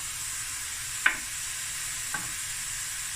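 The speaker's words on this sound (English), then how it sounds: "I'm going to allow this to now sweat down and cook a bit" Cut pieces of Dania sausage sizzle in a pot seasoned with salt and pepper, a soft continuous hiss with two brief clinks of a utensil against the pot, no one talking.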